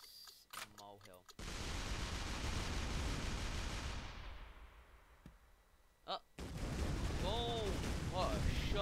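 A sniper shot in the artillery game Shellshock Live, a sharp crack followed by a long, loud roaring wash of noise that fades, then another burst with chirpy game effects.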